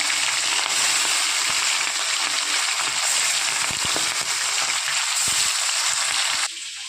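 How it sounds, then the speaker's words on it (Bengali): Pieces of rohu fish fry in oil in a home kitchen, a loud, continuous hissing sizzle close by with occasional crackles and spatters that eases slightly near the end. "ওই তেলেই ভেজে নেব আমি বাকি মাছগুলো।"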